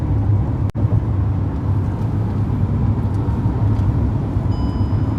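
Steady low rumble of road and engine noise inside a new Kia Sonet on the move, continuous and fairly loud with a single brief click near the start, no talking.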